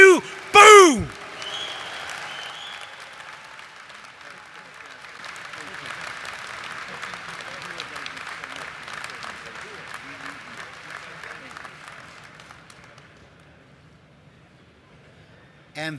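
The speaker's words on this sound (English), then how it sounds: "Let's give him another round of applause." Audience applause for the VFW National Ambassador, a retired Senior Enlisted Advisor to the Chairman, fills a large hall in a steady roar of clapping that lasts about twelve seconds before thinning out, with a few loud whoops at the start.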